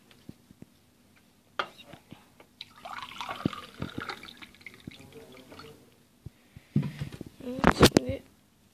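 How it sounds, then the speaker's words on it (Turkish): Water splashes and drips as hands and face are washed, with sparse drips and then a louder burst of running, splashing water near the end. A voice talks over parts of it. "Su içeceğim, elimi yüzümü yıkayacağım."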